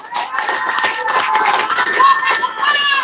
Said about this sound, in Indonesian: Sekali lagi kita berikan tepuk tangan kepada LBHP Muhammadiyah